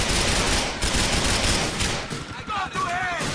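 Rapid automatic gunfire in Grand Theft Auto IV during a police chase, loud and dense bursts crackling almost continuously before thinning out, with brief siren-like sweeps near the end.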